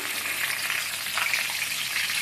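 Bay leaf frying in hot mustard oil in a pan, giving a steady, close, bright sizzle that stays even and loud throughout, with no talking.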